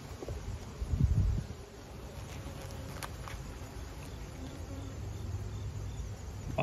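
Honey bees droning around an opened hive with drawn frames and brood, a soft continuous buzz close by with a louder pass of a bee near the start, no talk.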